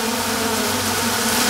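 A dense, loud buzz of many honeybees swarms around a beehive, a constant close drone that never lets up, with no voices.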